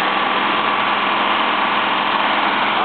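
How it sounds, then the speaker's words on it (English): A 1968 Mercedes 230 W110 with a manual gearbox idles loudly and steadily close by. Its carburetor is out of adjustment, and the engine holds an even, unbroken drone. "It's just so loud because the carburetor needs adjusted."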